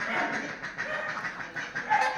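Chickens cluck in a dense, noisy barn-like setting, with soft overlapping clucks and murmurs blended into a continuous background over two seconds.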